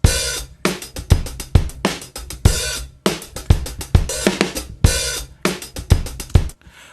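Beefy, heavily processed drum loop made fuller with parallel compression in Logic, with punchy kicks, cracking snares and a bright hi-hat wash repeating in a steady, loud groove.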